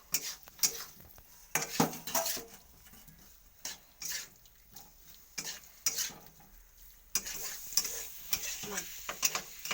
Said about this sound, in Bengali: এর আমি সবজিগুলো ছেড়ে দেবো।